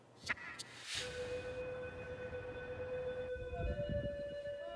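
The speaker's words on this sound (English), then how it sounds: "High water warnings still sounding across the city today." A flood warning siren in Venice wails, holding a long steady tone over low rumbling background noise, sounding distant and echoing.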